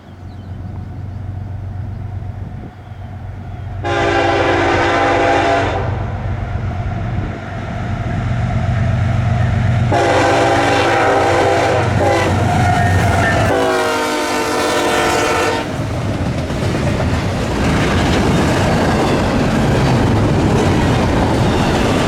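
A CSX intermodal freight train on the Garrett Subdivision rumbles past loudly, with several long horn blasts sounding over the steady roar and rattle of railcars.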